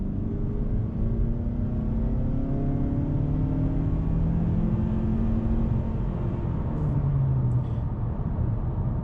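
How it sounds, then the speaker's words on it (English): A 2019 Mazda3 Sedan in Select Package trim with a smaller engine accelerates toward 60, its engine note climbing steadily in pitch through the gears over a constant road rumble, with no talking. "the car felt good in that acceleration"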